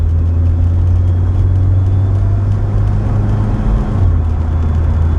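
A Mitsubishi Eclipse with rusty rotors revs loudly nearby, its engine droning steadily with front tires spinning, then a brief dip and change in pitch near the end as it shifts gear.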